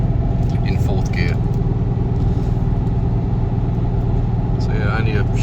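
A Nissan Patrol tows a van in 4th gear at just under 90, its engine a loud, steady drone with a deep road rumble that holds evenly throughout.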